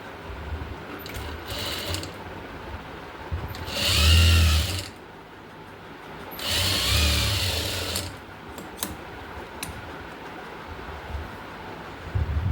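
A sewing machine stitching fabric onto the lining of a frock runs in two short whirring bursts of rapid needle clatter, with quieter mechanical handling noises around them.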